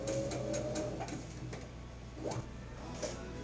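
A sewing machine stitches a garment sleeve into the armhole, its needle running in a steady rapid ticking rhythm up close with a low motor hum throughout, no talking.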